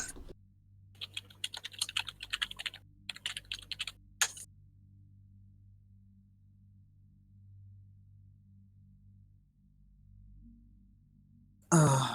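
Computer keyboard typing picked up by an unmuted microphone during a Hades speedrun, coming as bursts of quick clicky keystrokes over the first four seconds, then a long quiet stretch of low hum and a sudden loud thump at the end.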